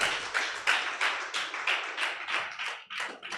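Clapping for a speaker at a 2025 agriculture conference in Lagos: steady, rhythmic claps that rise and fall in quick bursts, fairly faint, with no talking.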